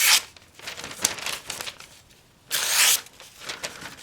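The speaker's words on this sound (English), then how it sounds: "Let's shred a little Natchez Shooter Supply catalog paper." A sharpened Chris Reeve Sebenza 21 Tanto knife slices through thin catalog paper, producing several crisp tearing swishes of varying length, with a loud longer cut near the end, close and alone.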